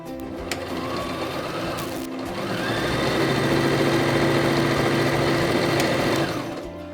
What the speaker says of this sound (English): we're going to lay them right sides together and stitch them so we have one long piece